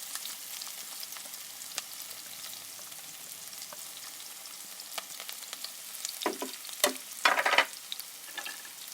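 Onions fry lightly in a pan with a steady, soft sizzle, joined by a few louder stirring scrapes and crackles near the end; no voices.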